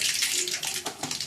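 Brief splashing and swishing of water, close by, as tomatoes, small onions and green chilies are rinsed and stirred by hand in a basin.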